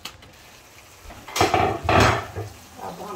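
Chicken stir-fried over a raised flame for a sweet-and-sour sandwich filling, with pan clatter and utensil scraping that swell in two louder bursts mid-clip, near and without talk.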